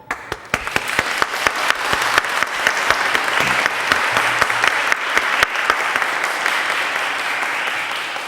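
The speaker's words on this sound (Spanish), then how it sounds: "Aplaudamos este logro" Steady, dense applause from a seated crowd at a swearing-in ceremony for new lawyers before a supreme court, many hands clapping with sharp individual claps standing out, sustained throughout and easing slightly toward the end.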